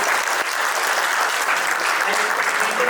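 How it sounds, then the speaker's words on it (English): A conference crowd at a smart-hotel innovation event gives the panel a loud, sustained round of applause that holds at full strength for the whole short stretch. "So may we have a huge round of applause to my lovely panel."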